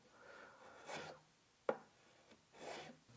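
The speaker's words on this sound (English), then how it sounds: "then I will switch to a Stanley 60 1/2 plane" A Stanley 60 1/2 block plane shaves a wooden gift box in a few separate strokes, each a short soft rasping swipe, with one sharp tap between them; quiet and close, no talking.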